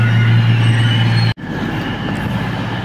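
Train standing at a large railway station platform, a loud steady low engine hum with rumble, briefly cut off before resuming as broadband station noise.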